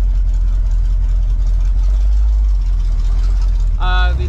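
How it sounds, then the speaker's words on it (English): A Ford 302 V8 in a junkyard truck fitted with Holley Sniper EFI idles near and loud, a steady low rumble at about 650 rpm, with a brief higher tonal sound cutting in just before the end. "Now I got the idle down to 650."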